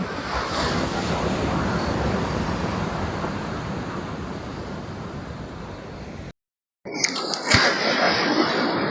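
Ocean surf breaking on the shore near Baler, a steady loud wash of waves roaring close by with wind buffeting the microphone, briefly cut out before the rushing water returns.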